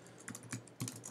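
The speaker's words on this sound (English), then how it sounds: "you can start typing" Typing on a computer keyboard while building an Adobe Spark presentation, a few quick irregular key taps close by, soft and alone without talk.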